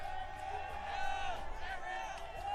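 A packed New York crowd at the UFC 244 press conference for Jorge Masvidal versus Nate Diaz cheering and whooping, a sustained roar with shrill chanting voices, close and fairly loud.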